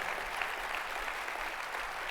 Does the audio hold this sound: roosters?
no